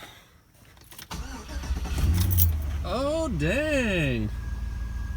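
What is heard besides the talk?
pickup truck engine starting and running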